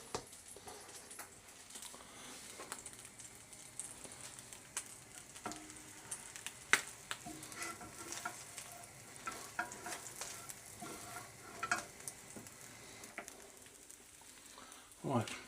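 Pork sausages fry in a pan with a soft continuous sizzle, punctuated by scattered pops, clicks and utensil taps over fifteen seconds.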